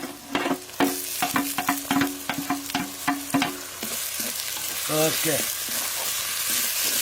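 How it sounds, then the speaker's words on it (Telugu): Tomatoes fry with ginger paste masala in a pan for an Indian mutton masala, giving a constant sizzle under a voice talking, with rhythmic stirring knocks early on. "ఇప్పుడు టమాటాలు వేసుకుందాం."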